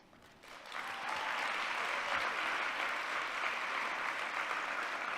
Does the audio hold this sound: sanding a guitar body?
no